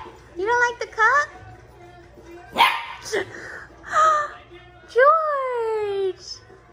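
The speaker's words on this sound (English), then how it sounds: "You barked!" A mini goldendoodle puppy barks in several short yips and whimpery barks, close by, with a few quiet pauses between bursts.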